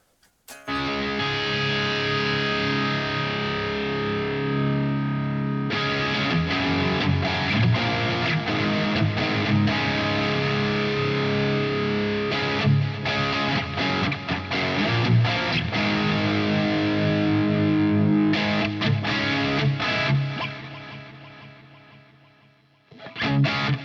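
Electric guitar through a Fender Tone Master Pro with ping pong delay, playing loud, sustained distorted chords and lines with repeats bouncing behind them; the playing is continuous, fades briefly near the end, then returns.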